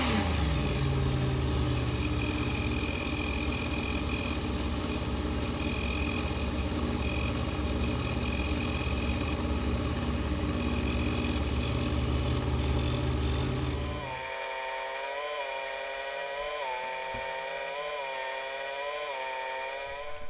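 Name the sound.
Work Sharp belt knife sharpener polishing a blade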